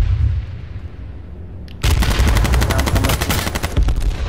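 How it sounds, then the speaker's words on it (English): Grenades and gunfire in the H1Z1 battle royale video game: a quiet lull breaks into a loud burst of explosions and rapid shots that rattle on for a couple of seconds. "He tried to jump in his car and I hit him with two grenades."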